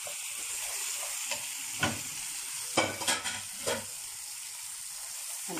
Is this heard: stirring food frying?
yes